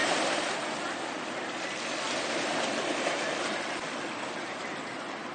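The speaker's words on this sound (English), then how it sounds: "This is the white water of the Whirlpool." Steady roaring rush of churning white water at the bottom of the Niagara Whirlpool in Canada, loud and continuous, with crashing waves filling the whole clip and no voices.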